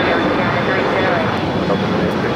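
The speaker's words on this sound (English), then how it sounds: "767-300ER. Going to be arriving there on the north side." A Boeing 767-300ER jet comes in to land at Los Angeles International Airport, its engines a loud, steady broadband roar that holds close and constant throughout, with a faint tower radio voice blending in underneath.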